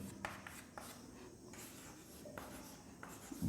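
Chalk or marker strokes on a classroom board during a chemistry lecture, a series of short scratchy taps and rubs, close and fairly quiet, with no talking.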